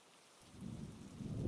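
Rain starts suddenly and swells into a steady downpour with a deep rumble of thunder building underneath, loud and close.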